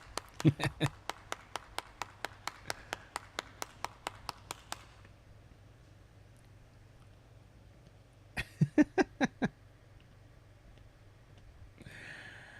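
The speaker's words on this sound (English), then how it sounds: "join me on a round of applause for the best joke of the day" A single person claps rapidly for several seconds, pauses, then claps a short burst again; close, dry, and fairly quiet.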